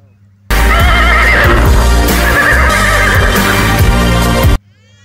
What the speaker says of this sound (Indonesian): Wow, ini adalah kuda.